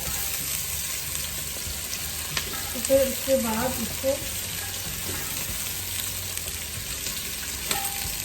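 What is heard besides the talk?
lightly roasting goat trotters in a pan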